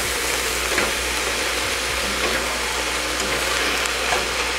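Onions caramelizing in a pan for French onion soup, giving a steady, close, even sizzle and fry hiss that runs without a break and has no talking over it.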